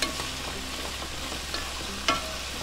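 Sliced mushrooms stirred in a hot frying pan for Chinese fried rice, with a steady sizzle underneath and a few scraping clicks from the spoon against the pan, close and moderately loud.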